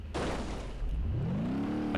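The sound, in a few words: car exhaust breaking off in BeamNG Drive video game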